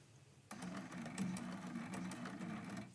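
A sewing machine runs briefly for a few quilting stitches, starting abruptly with a steady, quiet mechanical whir that continues close by.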